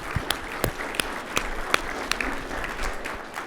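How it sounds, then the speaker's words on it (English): An audience at an aviation talk on helicopter autorotation landings gives a moderate round of applause, with distinct individual claps standing out over a softer, continuous patter. "I want you first of all give these guys a round of applause because they've survived."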